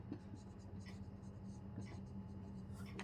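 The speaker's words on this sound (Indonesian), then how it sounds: "Ditulis tangan, bukan diketik WA." Pen scratching across paper in short rapid strokes, close and fairly quiet, with a faint steady hum underneath and no talk over it.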